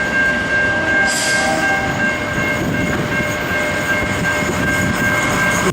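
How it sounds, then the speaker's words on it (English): An Adelaide suburban train rumbles past close by with steady loud rolling noise and wheel clatter, its horn holding a sustained tone throughout. "And another suburban train is coming."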